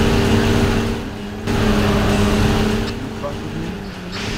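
A jeep engine in the racing video game Jeep Thrills drones loudly with steady tonal hum, dipping briefly and shifting in pitch, while a person talks over it.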